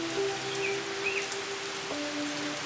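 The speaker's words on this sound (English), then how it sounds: "it's literally raining like crazy" Heavy rain falls in St. Catharines, a steady, dense hiss of drops on surfaces that continues without pause, with a faint tonal hum underneath.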